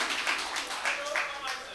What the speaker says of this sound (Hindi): एक बार आप मौजूदगी का एहसास दिलाएं, तालियां बजाकर